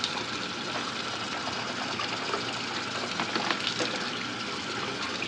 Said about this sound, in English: I rinse my mouth out